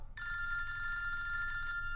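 A telephone bell rings steadily and close, a bright continuous electronic trill that starts abruptly and carries on alone over a low hum.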